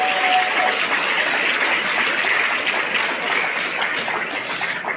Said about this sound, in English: Please give another round of applause for our plenary speakers this morning.